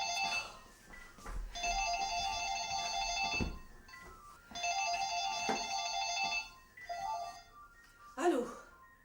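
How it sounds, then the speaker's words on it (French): A telephone rings indoors in repeated long electronic trilling bursts with pauses between them, close and loud, while people speak French over it. "Hé, téléphone."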